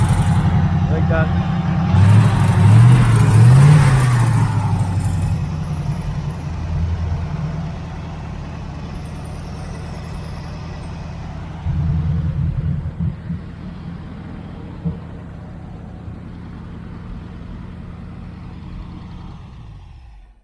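A 1980 Camaro Z28 with new headers idles with a deep, close rumble and revs briefly early on, then settles to a steady idle with another short rise later, while people talk over it.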